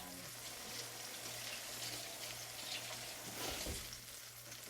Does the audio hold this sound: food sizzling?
yes